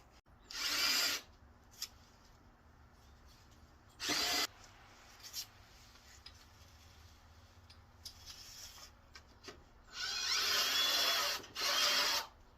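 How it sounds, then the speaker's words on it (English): A power drill whirs in several separate bursts while making holes for a camper base board, some brief and some longer, with quiet gaps between them. "Now I just have to figure out if I can make a hole."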